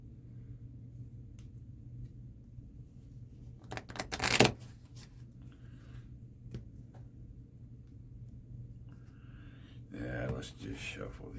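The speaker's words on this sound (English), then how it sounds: "let's just shuffle these this time." A deck of playing cards gets shuffled near the microphone, a sharp riffling burst in the middle and another near the end, with quiet room sound and occasional taps between.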